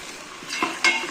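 Crushed ginger and garlic sautéing in a pan, a soft sizzle with a couple of sharper scraping stirs near the end, close and quiet.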